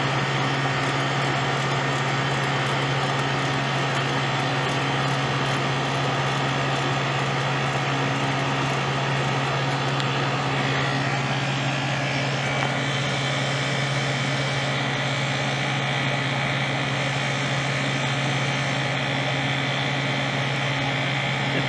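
A walk-in cooler's refrigeration system pumps down, giving a steady close mechanical hum with a strong low drone and broad hiss, shifting slightly in tone about halfway through and running continuously with no talk.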